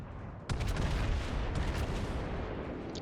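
A Montana battleship fires a heavy gun salvo at an enemy Hindenburg in World of Warships, a sudden loud boom followed by rolling, crackling blasts and rumble that stay close and powerful.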